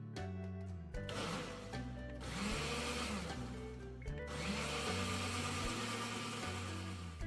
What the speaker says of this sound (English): empty that little baggie of powder into your blender cup and just give that a good blend